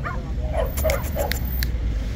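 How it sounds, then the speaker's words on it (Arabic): French terrier and Shih Tzu dogs for sale at a street market in Baghdad's Adhamiya district yip and bark in a few short, sharp bursts over a steady background murmur of traffic and crowd. "هنا الكلاب تيريري فرنسي وبو شيزو تيريري فرنسي وكلاب اوكرانيات"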